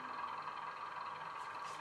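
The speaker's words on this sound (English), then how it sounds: "You can hear that DMU in the background" Diesel multiple unit train passing in the background, a faint distant steady rumble and hum with no talk over it.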